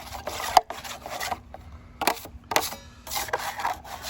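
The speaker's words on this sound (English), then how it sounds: "my right hand I'm stirring with the 6-inch knife" Plaster of Paris stirred with a 6-inch knife, a close scraping and rasping in short bursts with brief pauses between strokes and one sharp tap early on.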